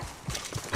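Horse galloping alongside a wagon in the video game Red Dead Online, with a few soft, muffled hoof thuds and a brief brighter burst at the end, short and moderately loud.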